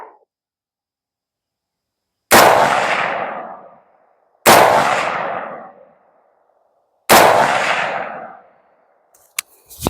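Three loud, close rifle shots ring out one by one at a rural outdoor firearms training range, about two seconds apart. Each sharp crack trails off into a long echo, with silence between shots.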